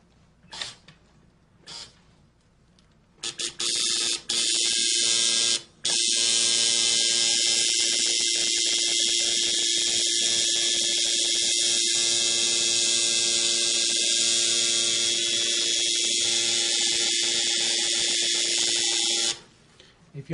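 A tattoo machine buzzes steadily while drawing a line, a continuous high-pitched electric whine that starts after a few brief bursts and runs close and loud for about fifteen seconds before stopping.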